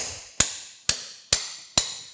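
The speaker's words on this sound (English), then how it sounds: "it helps if you drive these tapered pins out in the right direction" Hammer blows driving tapered pins out of the friction clutch on a Lucas horizontal boring mill, four sharp metallic strikes spaced evenly about half a second apart, close and loud with ringing decay.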